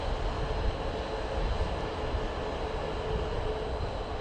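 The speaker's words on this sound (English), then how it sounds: "There's the Stadler Flirts" A Stadler FLIRT electric train runs at Budapest Kelenföld station, giving off a loud, steady broadband rush of motor and rail noise with no pauses.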